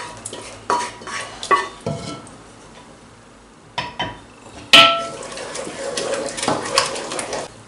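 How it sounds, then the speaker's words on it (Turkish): A spoon stirs Bolognese sauce together with béchamel sauce in a pot, making a series of irregular metallic clinks and scrapes against the pot, close up, with a sharper clatter partway through. "Beşamel sosla birlikte onu karıştırıyorum."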